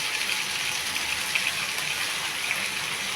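Water poured into a pan of frying round-sliced eggplant, a steady gushing splash with sizzle, close and constant for the whole short stretch with no talk.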